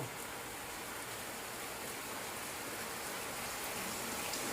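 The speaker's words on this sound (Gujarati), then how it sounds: "બહાર જોરદાર વરસાદ ચાલુ થઈ ગયો છે." Heavy monsoon rain pours down outside in Surat, a dense, unbroken roar of falling water, steady and loud from start to finish with no voices.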